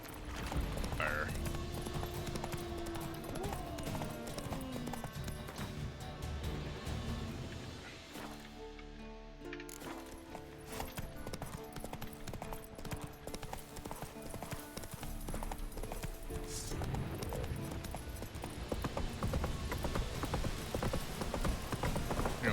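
Roach the horse gallops in a video game, steady rhythmic hoofbeats pounding close by over game music and ambience, with someone talking intermittently and a short lull partway through.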